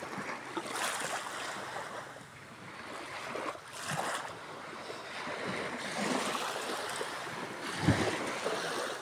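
Rough sea waves in stormy, rainy weather on a flooded coast, a continuous roar of surf and wind with several louder surges crashing at intervals, no voices.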